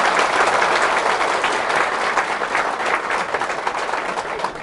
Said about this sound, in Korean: 박수는 괜찮아. 박수는 마음만 세게 쳐도.